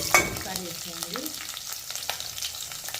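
Spices crackle and sizzle in hot oil while tempering for raw papaya pulusu, with a brief stirring scrape at the start, steady frying hiss throughout.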